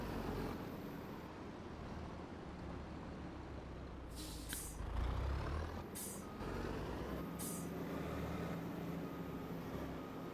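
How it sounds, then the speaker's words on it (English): A truck in Farming Simulator 25 rumbles along steadily, with three sharp hissing bursts of its air brakes in the second half, the engine drone continuing beneath them. "Great little truck for doing this."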